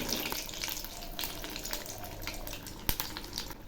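Thin eggplant fritters in besan batter fry in hot oil with a steady close bubbling sizzle and a few soft ladle clinks, one sharper tap near the end.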